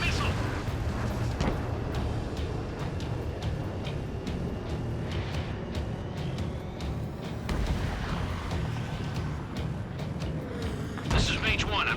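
Booming missile blasts and rumbling explosions fill an Ace Combat 7 air battle over SAM sites on PS4, sustained and loud with sharp transients scattered throughout, while radio voices talk over the din.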